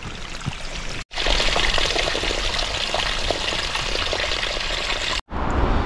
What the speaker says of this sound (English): now we have a nice little creek coming down parallel to the trail